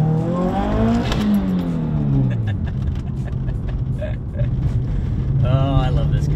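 A turbocharged Subaru WRX engine revs up hard and accelerates in first gear, its pitch climbing and dropping through gear changes, with a voice speaking over the engine noise.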